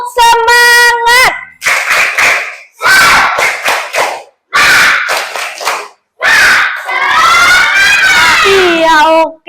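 A classroom of schoolchildren performs a rhythmic spirit clap, loud close bursts of group clapping alternating with chanted shouts in a patterned beat, with brief pauses between phrases.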